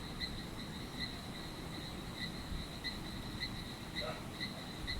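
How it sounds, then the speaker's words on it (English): A chorus of frogs' high, pulsing chirps repeats steadily at a distance in the Amazon rain, a thin rhythmic calling over a soft low background with no talking. "The frogs are chanting to the rain."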